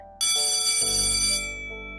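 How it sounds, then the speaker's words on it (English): A school bell rings out loud and bright, starting abruptly and sounding for well over a second before fading into a lower lingering tone. "The bell rang, cutting off his sentence, and we both rushed to our seats."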